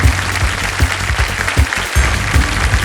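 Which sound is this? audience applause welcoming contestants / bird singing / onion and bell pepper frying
audience applause welcoming contestants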